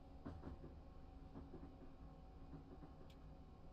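An eight-car train in the Train Sim Classic game runs on the London to Brighton line, a steady low rumble with faint rhythmic clicking from the wheels, quiet and continuous, with no voices.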